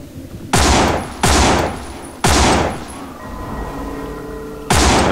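Gunfire in the zombie survival video game No More Room in Hell: four loud, sharp bursts of shots spaced unevenly, with a steady hum and ringing tones filling the gaps between them.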